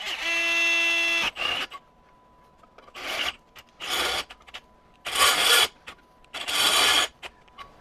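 A cobalt step drill bit bites into metal in several short, harsh grinding bursts, separated by pauses with a faint steady motor whine underneath.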